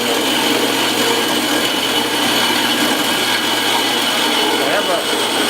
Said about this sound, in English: So I'm cutting about a 9-inch piece of tubing to just slide inside that tubing to weld in